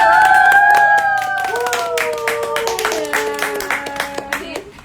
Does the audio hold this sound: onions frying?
no